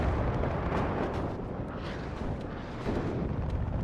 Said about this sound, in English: I'm just in for a nice bombing run, gets a kill.